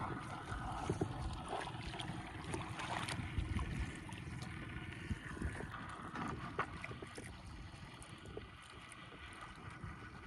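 Fishing boats out on open water, with a steady motor drone, wind buffeting the microphone and lapping waves, all continuous and fairly faint throughout.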